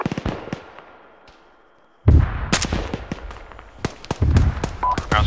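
Mortar rounds fire in Arma during a mortar section operation, heard as a burst of sharp, loud booms and cracks after a quiet pause. Distant shots are scattered before the burst, and the booms continue in a rapid, irregular series.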